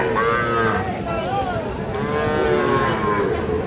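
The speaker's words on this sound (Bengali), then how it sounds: "এইটা একটা ক্রস জাতের ষাঁড় বাছুর" A crossbred bull calf at a cattle market moos in long, wavering, drawn-out calls, loud and close against a busy background murmur.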